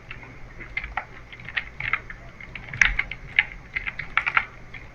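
Rapid typing of a search on a computer keyboard, close and clear, with uneven bursts of crisp key clicks over a low steady hum.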